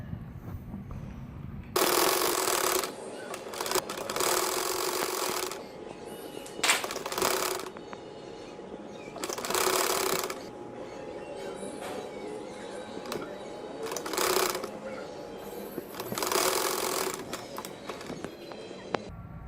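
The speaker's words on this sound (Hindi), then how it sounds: "यहाँ से पकड़ के अब यहाँ सिलाई लगा देना" A sewing machine stitches a strip for a six-month baby boy's shirt in several short rattling bursts separated by quiet pauses, close and fairly soft, with no talk.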